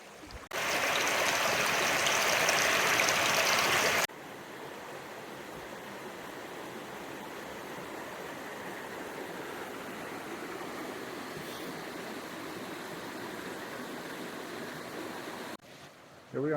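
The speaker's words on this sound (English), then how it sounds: "Laurel Creek on the way to Wawona Meadow." Laurel Creek flows near Wawona Meadow as a steady, broadband rush of water, loud at the start and then continuing at a slightly softer, constant level with no talk.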